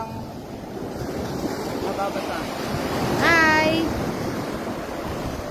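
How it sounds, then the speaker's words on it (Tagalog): Ocean surf washes onto a beach at low tide as a continuous broad roar with wind buffeting the microphone, and a voice calls out a brief greeting over it. "And the waves are over there."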